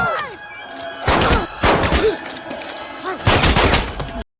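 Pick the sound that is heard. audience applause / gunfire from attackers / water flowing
gunfire from attackers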